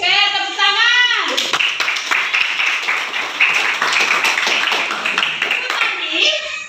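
A class of children claps hands together in a classroom. Bursts of clapping come in quick patterns over a continuous backdrop of young voices talking and calling out.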